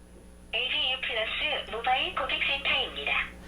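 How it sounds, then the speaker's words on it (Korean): A call placed from an Apple Watch Series 3 Cellular, with a voice coming through a thin, band-limited telephone line, steady and fairly loud for about three seconds in an indoor setting. "애플워치 시리즈 3 셀룰러 모델에서는 바로 아이폰이 옆에 없어도 전화 통화를 하실 수가 있고요"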